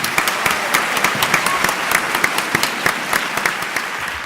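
Warm applause from an evening gala audience in Los Angeles welcoming an honored guest, a dense steady clatter of many hands with sharper individual claps standing out, sustained at even loudness throughout.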